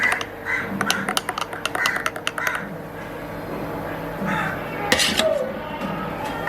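A spoon clinking against a glass while stirring milk sarbath with jelly, a run of quick, close taps in the first few seconds, then a few more clinks later with a voice talking in between.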